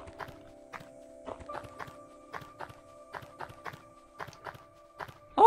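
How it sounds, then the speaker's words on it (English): Footsteps in the video game LISA tap out a melodic tune, clear evenly spaced steps in short runs, each one pitched, over a sustained background tone. "Oh, our footsteps making a tune."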